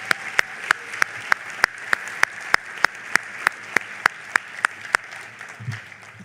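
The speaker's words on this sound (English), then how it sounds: "If you would now join me in giving them a round of applause." Audience at a nurse pinning ceremony clapping in a steady, evenly spaced rhythm of sharp claps, about three per second, which fades out near the end.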